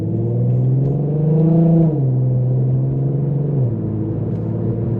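A tuned Infiniti Q50 running on E85 fuel rumbles steadily up close, its deep idle rising briefly in pitch as it revs, then settling back to a low throb.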